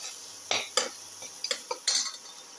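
A spoon scrapes and clinks against a pan while salt is mixed into a ginger, garlic and tomato dish, giving several short, close metallic taps and scrapes over a faint background hiss.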